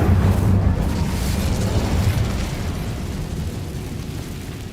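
Incendio fire spell in Hogwarts Legacy: a loud, roaring burst of flame at the start that spreads into a broad crackling rush and slowly fades over several seconds.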